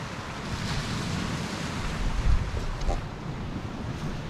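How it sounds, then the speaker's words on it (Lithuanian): Wind and surf on a Baltic Sea coast, a steady broadband rush of breaking waves with gusts buffeting the microphone, close and fairly loud throughout. "Sakyčiau, biškį vėjuota,"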